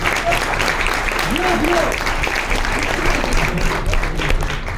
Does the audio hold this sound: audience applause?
yes